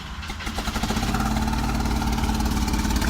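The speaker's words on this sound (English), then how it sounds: "we figured why not do a turbo start with no exhaust on the car at all" A Volvo 740 turbo with no exhaust fitted and half its spark plugs disconnected cranks and catches, breaking into a loud, raw, uneven idle with rapid pulsing chugs.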